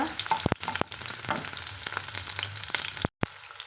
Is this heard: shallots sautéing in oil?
yes